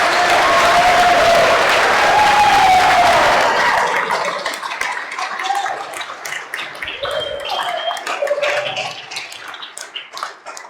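Wedding guests at a Yarra Valley ceremony applaud the groom Michael, a dense, loud burst of clapping that swells for a few seconds and then thins into scattered claps and cheers.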